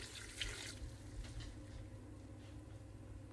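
Three cups of water pour steadily into a slow cooker holding chopped sweet potato, onion, garlic, spices, chili paste and red lentils, a continuous close splashing rush with no talking.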